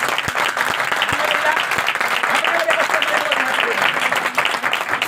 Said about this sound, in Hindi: तो अपने अपने बच्चों के लिए जोरदार ताली बजाएं